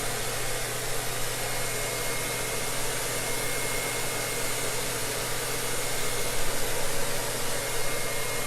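Hair dryer blowing a steady, loud stream of air on a hair weave, with a constant motor hum and broadband hiss that swell slightly near the end, and no talk.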